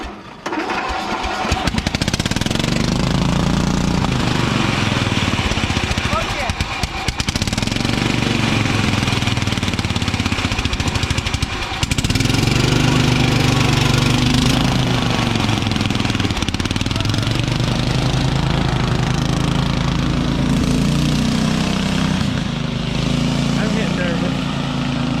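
A riding lawn mower engine runs loud and close, its rough mechanical drone rising and falling with throttle changes, while people talk over it.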